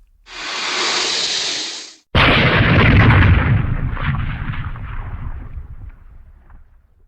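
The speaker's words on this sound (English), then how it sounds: "A second explosion has rocked the ship." A torpedo strikes a World War I ship's starboard side: a hissing rush cuts off abruptly, then a massive deep blast booms and rolls on, its rumble slowly fading with crackling debris.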